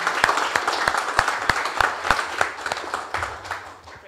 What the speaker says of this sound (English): Let me give a quick applause to the